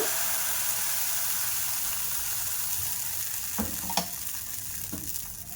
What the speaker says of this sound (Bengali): এবার আমি যে ব্যাটারটা বানিয়েছিলাম ওই ব্যাটারটা দিয়ে দেব